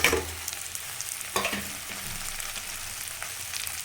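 Onions frying in a pan as the base for an okra curry, a soft steady sizzle with a sharper clatter of stirring near the start and again around the middle, no voices.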